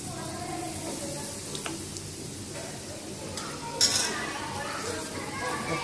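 Turmeric roasting in hot oil for a mango pickle masala gives off a steady close sizzle, with stirring scrapes and a brief metallic clink of a utensil against the pan.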